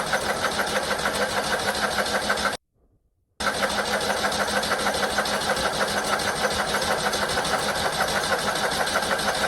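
A very loud old Niki car engine runs with a harsh, steady mechanical roar and rapid rattling pulses. It cuts out briefly to near silence partway through, then resumes at full volume.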